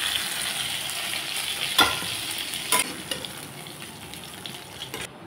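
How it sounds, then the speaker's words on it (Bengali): Hilsa fish head frying in hot mustard oil in a kadai, a close, steady sizzling hiss with occasional sharp spatter pops and stirring scrapes, and no talking. "মাছের মাথাটা ভেজে নিলাম।"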